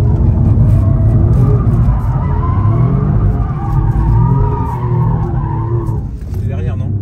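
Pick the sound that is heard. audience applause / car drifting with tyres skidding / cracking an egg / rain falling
car drifting with tyres skidding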